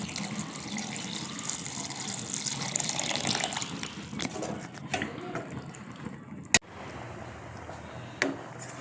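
Water runs and splashes into a cooking pot for several seconds while making white kadappa, a Kumbakonam-Thanjavur side dish, then stops, followed by a couple of sharp knocks.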